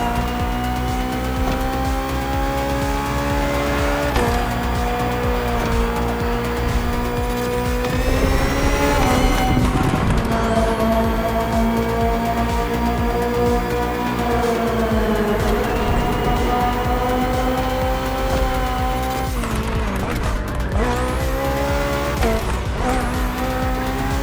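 A 2023 BMW M Hybrid V8 endurance race car, built for events like the 24 Hours of Le Mans, roars continuously in The Crew Motorfest racing game, its engine note rising and falling through gear shifts with bursts of tire squeal.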